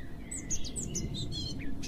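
Birds chirp in a quick run of short, high tweets over a low background rumble, fairly close and clear, with no talking.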